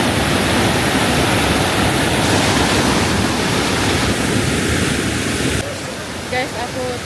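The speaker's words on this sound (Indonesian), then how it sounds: "Sekarang posisiku berada di bawah air terjun" Victoria Falls thunders from below at the Boiling Pot, a loud dense white roar of falling water, steady and overwhelming, that drops slightly in level partway through as a voice speaks faintly over it.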